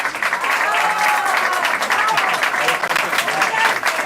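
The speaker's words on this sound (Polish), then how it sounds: "I prefer to get applause after I speak, not that before." A crowd at a solidarity event for Cuba keeps applauding, a thick wash of clapping from many hands that stays level for the whole stretch.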